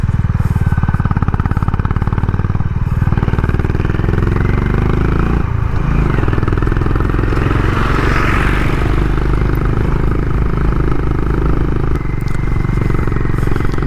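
Honda Highness motorcycle labouring up a steep road in first gear at high altitude in Spiti Valley, a loud steady engine drone with rattling clatter throughout, close and continuous, no talking.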